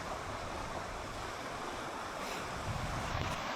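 A fast-flowing, high, muddy river rushes in a broad, steady roar near a castle, with wind buffeting the microphone and no voices.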